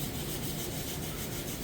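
Steady, close sanding of wood for white oak kitchen shelves, a continuous dry rubbing hiss that holds an even level throughout with no pauses.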